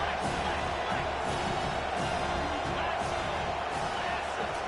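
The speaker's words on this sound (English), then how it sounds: "this crowd is tearing the lid off this place" A football stadium crowd roars steadily on third down at a college game, a dense, continuous wall of cheering and noise from all around with no breaks.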